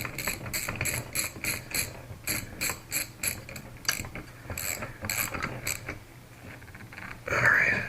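A part is tightened onto an RC car pull-start assembly with a tool, making rapid ratcheting clicks in quick bursts separated by brief pauses, close and fairly loud.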